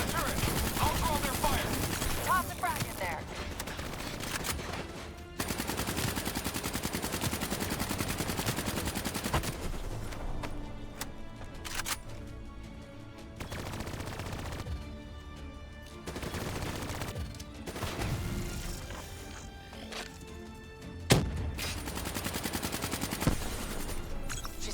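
Sustained rifle and turret fire in the shooter Call of Duty Black Ops 3, with rapid automatic bursts and sharp shots coming in waves over a loud battle background, with occasional heavier blasts.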